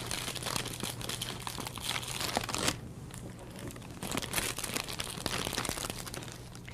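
A paper fan for gift wrapping is folded back up by hand, giving close, continuous crinkling and rustling of paper with a short quieter pause in the middle and no voices.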